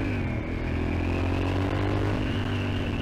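Motorcycle fitted with a full exhaust line, its steady engine drone running loud and continuous with a constant low hum throughout, no speech over it.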